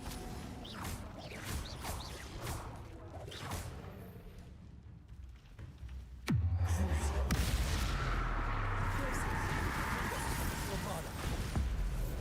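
A Bombarda spell explodes in a Harry Potter video game, landing as one sudden heavy boom partway through and followed by a sustained loud rumble. Softer combat thuds and whooshes come before it, and a voice speaks over the game sounds.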